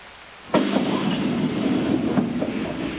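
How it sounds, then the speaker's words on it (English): Train departing on the Lighthouse map in Escape from Tarkov: a sudden loud rush of rail noise kicks in and holds as a steady rumbling, clattering roar close by. "the train's gonna be leaving"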